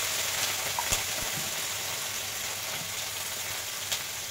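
Ridge gourd going into hot oil sets off a steady, fairly loud sizzle of frying that carries on evenly for a few seconds, with a few light clinks and taps and no voices.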